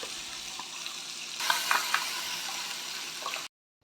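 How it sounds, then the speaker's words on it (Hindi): Cashew and garlic paste with cinnamon, cloves and cardamom fries in butter with a dense, continuous sizzle, small clinks of stirring scattered through, before cutting off abruptly near the end. "जो पेस्ट तैयार किया था काजू और लहसुन से, उसे भून लेंगे"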